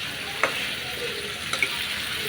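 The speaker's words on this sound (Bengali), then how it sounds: "আমি আরেকটু নাড়াচাড়া করে পানি দিয়ে দিব।" Chicken and potato fry in oil in a pan with a steady, soft sizzling hiss, broken by a few sharp scrapes and clicks as the mixture is stirred.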